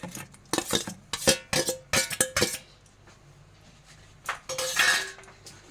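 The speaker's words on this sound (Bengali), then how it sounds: "দিয়ে দিলাম 1 বাটি মতো দই, 2 চামচ" A spoon scrapes and clinks against a bowl as curd is added for an egg curry, in a quick series of sharp metallic taps and stirring scrapes, close and fairly quiet, with a lull in the middle.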